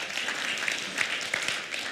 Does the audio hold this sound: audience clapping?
yes